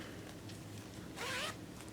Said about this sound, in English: There is the neck zipper here